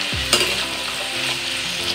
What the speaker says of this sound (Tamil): எல்லா காயும் சேர்த்து நல்லா வதக்கிக்கலாம் எண்ணெயில்